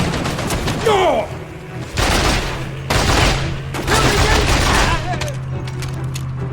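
Rapid bursts of AK rifle fire from the Mercenaries 2 video game, loud and close, coming in several clustered volleys over a steady low drone, with voices talking between the shots.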